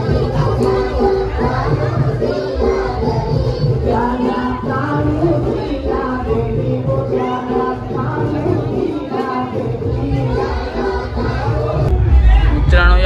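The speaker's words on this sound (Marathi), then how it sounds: "जल्लोष दादर गावाचा." A dense, celebrating crowd fills a Dadar village palkhi procession, people smeared with gulal, with a steady roar of voices, shouting and chatter close around and a swell of noise near the end.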